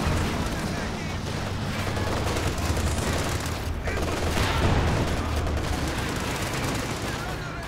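Anti-tank guns and rockets fire in Company of Heroes 2, a World War II strategy game, making a dense, loud, continuous wash of battle noise with overlapping blasts and gunfire throughout.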